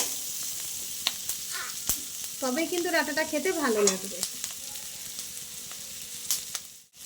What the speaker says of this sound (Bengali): একটু আস্তে জাল দিয়ে ডাঁটাটাও নরম হবে আর এদিকে ভাজাও হবে